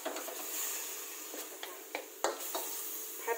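Chicken breast and stock sizzle steadily in a hot pan while a utensil scrapes and stirs now and then, producing a few sharp clacks.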